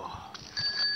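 Cartoon bicycle bell from a Peppa Pig episode, rung in two bright sustained rings that carry through the second half, with a short chime before them over light background music.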